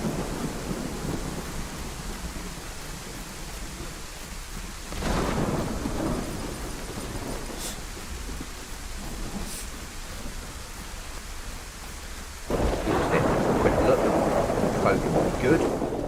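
Steady rain falls in the survival video game DayZ, with low thunder rumbling in two or three swells and the downpour growing heavier toward the end.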